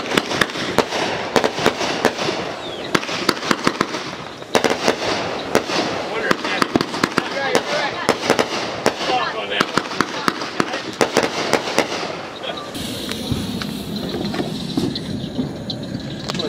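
Firework mortars going off at a 4th of July backyard celebration, a dense run of sharp cracks and bangs for most of the stretch, then quieter crackling near the end, with people talking and cheering throughout.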